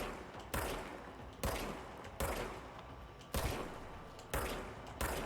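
Gunfire from the video game Control comes as a steady series of six sharp, loud shots, evenly spaced about one second apart, each with a short ringing tail, and no talking over it.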